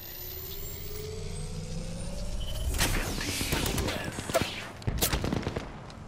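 Gunfire in the video game Apex Legends, scattered shots and short bursts crackling in the second half, some near and punchy, over a low rumbling game background with a faint voice.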